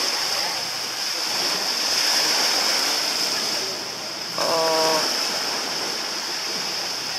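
Continuous rushing wash of waves breaking on a small, quiet beach in Thailand, steady and fairly loud, with someone briefly speaking over it and a short tonal beep partway through.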